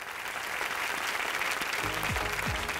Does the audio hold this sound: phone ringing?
no